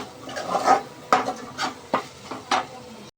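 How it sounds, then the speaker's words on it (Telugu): Onions with ginger garlic paste stir-fried in a pan for an egg curry: repeated close scraping and stirring strokes over a soft, steady sizzle, with no talk. "ఆనియన్స్ వేగుతున్నప్పుడే కొంచెం జింజర్ గార్లిక్ పేస్ట్ వేసుకోండి"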